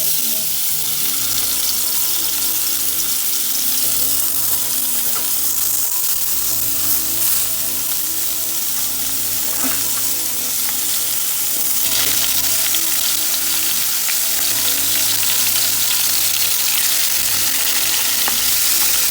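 Tuna fillets frying in oil in a pot, a steady loud hiss and crackle of sizzling heard up close for the whole stretch.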